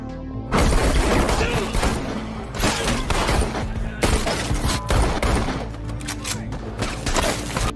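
Dense bursts of gunfire crackle and boom continuously, with loud overlapping shots and impacts throughout, like a frantic shootout between police and a gang in the film Silent Night.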